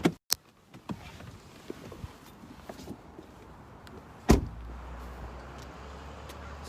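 A car door on a 2015 Jeep Grand Cherokee Limited 4x4 opens with a sharp click, then slams shut with a loud, close thud, followed by quiet outdoor ambience.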